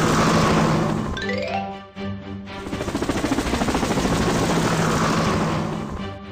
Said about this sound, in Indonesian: Helikopter, berangkat.